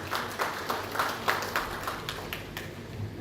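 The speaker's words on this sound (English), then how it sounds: "With a round of applause, please." A handful of people clap for a speaker at a report launch and workshop on gas price formation, sparse and uneven claps in a loose rhythm, fairly quiet in a room.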